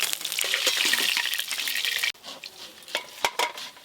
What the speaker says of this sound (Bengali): বাদ বাকি যা মাছ আছে এইগুলোও ভেজে নেব।